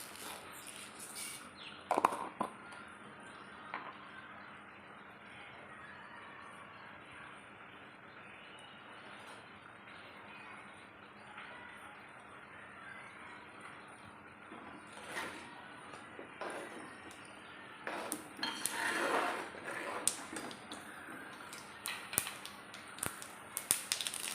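Mustard seeds crackling and popping in hot coconut oil for a Kerala-style tomato curry, faint scattered pops that grow denser and louder toward the end, heard close in a quiet kitchen.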